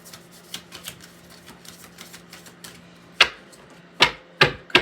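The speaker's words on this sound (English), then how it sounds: "I'll shuffle it one more time" A deck of cards is shuffled during a card reading: a run of light, quick clicks and ticks, then four louder, sharp slaps of cards close by.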